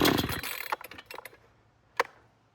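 A bargain gas chainsaw sputters on choke, loud at first and then dying down into a few uneven pops and a late sharp burst, close and alone.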